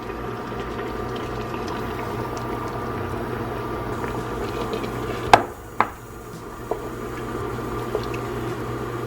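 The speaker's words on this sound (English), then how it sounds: "The ingredients have been simmering for a few minutes." A pot of eggplant, tomato and chickpea stew simmers with a low, steady bubbling hum. A few sharp knocks and clinks stand out around the middle.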